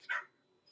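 A single short bark from a dog in a Subaru Crosstrek TV commercial, heard once, fairly quiet and alone, as if playing from a television.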